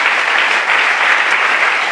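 A church congregation at a sermon claps loudly and continuously, a dense, even roar of many hands close by with no pauses.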